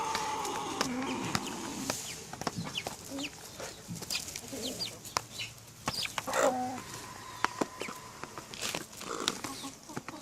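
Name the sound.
chickens and roosters clucking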